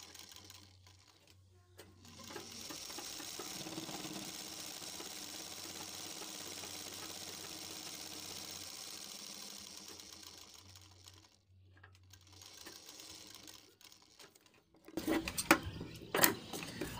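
A sewing machine runs in a long steady burst, stitching along the buckram edge of a half collar with lining underneath, then stops and starts briefly with a few clattering handling noises at the end.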